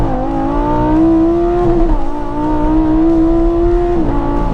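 A high-revving Lamborghini Huracan engine roars steadily during launch acceleration, its pitch stepping up and dropping with each quick gear change, loud and close.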